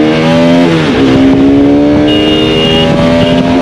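Motorcycles race along a road, a loud, close engine whine that rises in pitch, dips briefly and climbs again, with a second engine joining near the end.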